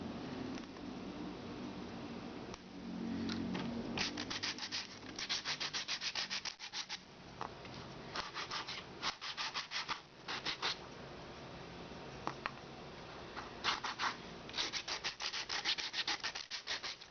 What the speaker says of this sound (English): Sand the rough areas so you won't get splinters.